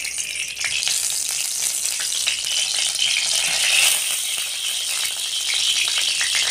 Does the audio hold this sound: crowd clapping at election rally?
no